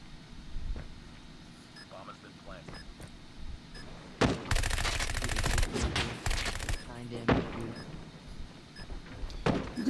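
Rapid MG42 machine gun fire in Call of Duty Mobile, a dense rattling burst of game gunfire lasting a few seconds over background game sounds, with a player talking before and after.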